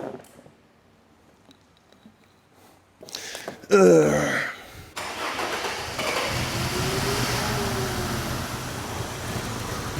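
Car fuelled with beer cranking briefly and then catching, its engine settling into a steady loud running rumble after a short burst of noise.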